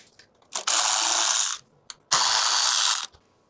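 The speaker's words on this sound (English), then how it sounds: "Next, you want to remove 10mm bolt either side of the intercooler." Two long, loud bursts of rapid ratchet clicking as 10mm bolts are backed out beside the intercooler of a Ford Ranger Raptor, separated by a brief tap and pause.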